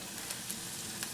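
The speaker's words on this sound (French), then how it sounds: "On va maintenant mettre le couvercle pour laisser les oignons cuire lentement à feu doux." Onions cook slowly over low heat in a covered pan, giving a soft, steady sizzle with faint crackles throughout, alone and fairly quiet.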